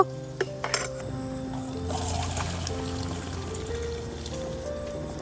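Water pours steadily from a pot with light metallic clinks at the start, a continuous stream of liquid draining from boiled taro flowers.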